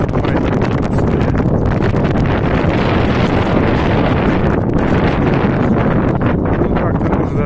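Steady, heavy wind buffeting the microphone, a loud continuous rumble with gusty fluctuations throughout.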